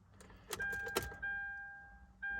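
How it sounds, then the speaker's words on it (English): Ignition key turned in a 2014 Kia Sportage LX that fails to start: a brief jangle of keys and clicks, then a steady electronic warning chime that stops and resumes, with no engine cranking. "But you go to turn the key."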